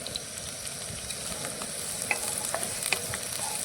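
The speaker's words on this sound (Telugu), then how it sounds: "ఉల్లిపాయ ముక్కలు మంచిగా బ్రౌన్ కలర్ వచ్చేలాగా వీటిని మనం వేయించుకోవాలి." Chopped onions for poha frying and being stirred in a pan, a steady sizzle with occasional spatula scrapes and pops, close and continuous with no talking.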